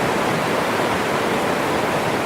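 A fast glacial river in Norway rushing at the base of a glacier, a dense, loud and continuous roar of churning water close by with no voices.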